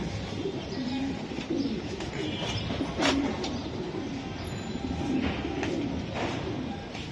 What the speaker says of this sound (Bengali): এই যে আরেকটা কবুতর,